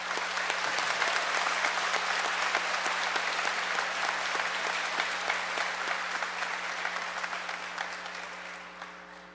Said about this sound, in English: I think the students deserve a round of applause for their accomplishments while at the Academy